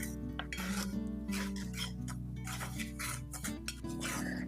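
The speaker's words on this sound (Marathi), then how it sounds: "इथे आपला रवा भाजतोय" Semolina roasted with ghee in a pan over a low flame, a quiet continuous clinking and scraping of a spoon against the pan, faint and close, with a low steady hum underneath and no talk.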